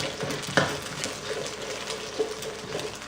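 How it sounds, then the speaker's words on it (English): Eggs stirred and broken up in hot oil in a wok for Thai fried rice, a close, continuous frying sizzle punctuated by a few sharp scraping and clanking strokes of the utensil against the pan. "Once the eggs have been added to the wok, just give them a quick stir in the oil"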